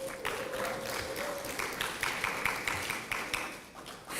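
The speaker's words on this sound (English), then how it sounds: "Can we give them a round of applause?" An audience at an annual round table conference breaks into applause, a dense, steady spread of clapping hands from many people that carries on without pause, moderately loud.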